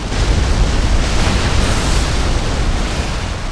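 Blazing Bullet attack striking an opponent in the game Phantom Dust, a loud, dense roaring burst of explosive noise that stays steady and heavy for the whole few seconds, with no speech.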